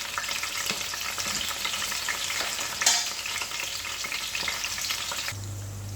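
Sliced onions sizzle steadily in hot oil in a pan while fish biryani is being cooked. The frying is continuous and moderately loud, with occasional stirring scrapes and no talking.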